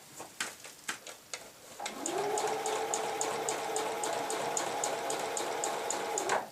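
Sewing machine stitching a lapped zip, starting with a few separate ticking clicks of a back tack, then a steady, close whirring run of fast stitches for about five seconds before stopping.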